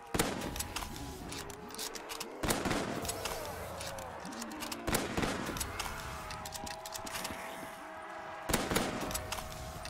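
Gunfire from the Scooby-Doo map in Black Ops 3 Custom Zombies, with repeated loud bursts of rapid automatic shots and short gaps between them against a busy game background.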